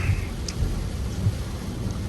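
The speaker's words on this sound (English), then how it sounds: "So it's raining, it's pouring." Steady rain pouring with a low rumble of thunder underneath, a continuous broadband wash heard from indoors, with no voices.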